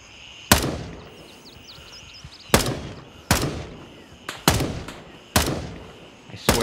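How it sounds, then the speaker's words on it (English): Gunfire in the tactical shooter Gray Zone Warfare: five or six loud, sharp shots spaced irregularly over several seconds, each cracking out and trailing off against a quiet ambient background. "There's more shooting."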